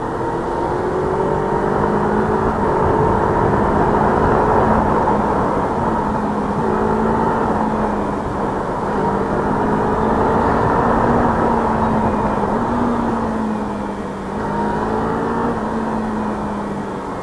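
A Kawasaki Ninja 300 motorcycle accelerates on a test ride, its engine note climbing through revs in repeated rising sweeps amid steady wind rush, loud and close.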